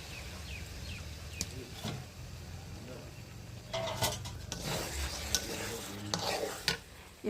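Country chicken pieces are stirred and fried in a pan, with a soft steady sizzle broken by sharp scrapes and clinks of the spoon against the pan at irregular moments.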